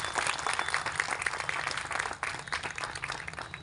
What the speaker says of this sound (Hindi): तो राजकोट की कुशल मेडिकल टीम के लिए आप एक जोरदार तालियां बजाएं।